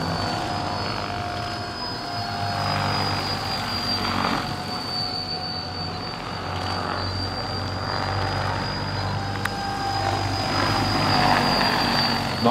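A gigantic RC Labrador CH-113 tandem-rotor model helicopter flying at a heli show, a steady loud turbine whine with rotor thrum that holds for the whole stretch.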